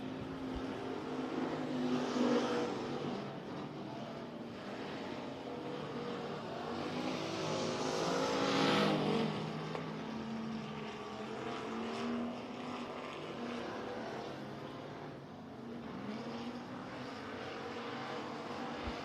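Factory stock race car on a dirt speedway, engine roar rising and falling as it slides hard through a turn, heard from a distance amid track ambience and crowd noise.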